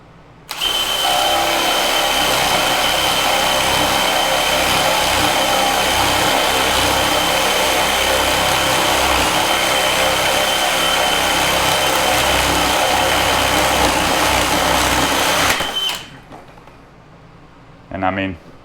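A DeWalt DCD996 brushless drill bores with a 1.5-inch bit, a loud, steady whining roar that runs without pause for about fifteen seconds and then cuts off, followed by a short faint clatter.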